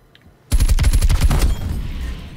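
A submachine gun fires a rapid burst at close range in Black Ops Cold War, a dense string of loud cracking shots lasting about a second before trailing off into echo.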